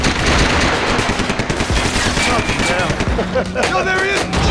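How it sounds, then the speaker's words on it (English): Gunfire from the video game Max Payne 3, loud and dense, rapid bursts and shots overlapping continuously with game voices shouting over the action. "Gunfire overhead."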